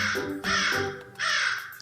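Two loud, harsh crow caws ring out close by, each a raspy drawn-out call with a short gap between, used as an effect in a Felix the Cat story.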